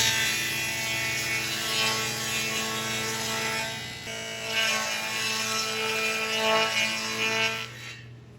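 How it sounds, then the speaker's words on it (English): A power saw cutting a groove in cheap plywood for a bookcase back panel: a loud, steady motor whine with a rough cutting tone, swelling and easing as the wood feeds through, then winding down. "what you saw me do there was cut the groove for that back panel"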